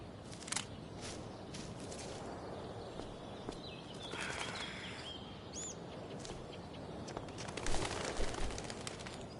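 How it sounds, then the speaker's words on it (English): A bird takes off in the video game Life is Strange: Before the Storm, a quick flutter of wings and a few chirps over soft outdoor ambience with light footstep-like taps. "One small flight for this bird, one giant leap backward for Chloe Price"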